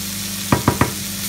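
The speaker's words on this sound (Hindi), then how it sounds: "और मीडियम फ्लेम पे इसको पकाएंगे कम से कम 5 से 7 मिनट तक।" Prawn masala cooks in a pan on a medium flame with a constant, close sizzle, and three quick stirring scrapes land in an even rhythm partway through.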